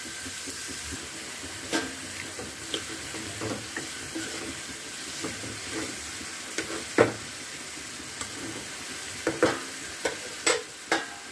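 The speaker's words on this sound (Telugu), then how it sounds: "కలిపేసి మూత పెడితే, సిమ్లో పెట్టేసి మూత పెడితే ఉల్లిపాయ బాగా మగ్గాలన్నమాట" Onions cooking in a pan on low heat, a soft continuous sizzle with scattered clicks and light scraping, close by and moderately quiet, with no voices.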